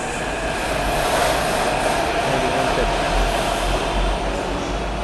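A Hyderabad metro train pulls away from a crowded platform with a steady loud rumble and faint wheel squeal, a high whine running through the clip.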